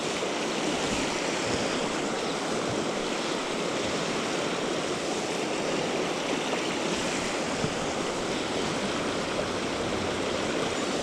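The fast Cache La Poudre River in Colorado rushes in a steady, loud, unbroken roar, close and constant throughout with no talking.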